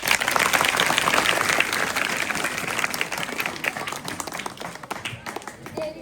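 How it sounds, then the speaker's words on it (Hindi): An audience at an anti-drug awareness talk claps loudly at first, the applause thinning and fading out over several seconds. "ताली बजाओ"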